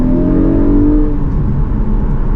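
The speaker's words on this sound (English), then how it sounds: "I can hear the engine, that hum behind me." A Porsche 718 GTS 4.0 engine hums steadily from inside the moving car, a low, continuous drone with a faint rising harmonic early on, fairly loud and with no talk over it.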